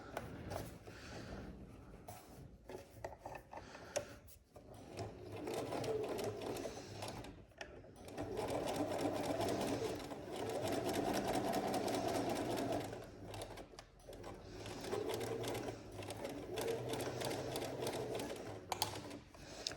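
A Bernina B335 sewing machine stitches a gathered seam with a waistband edge, steady fast close-up needle clatter in long runs that slow and pause briefly now and then.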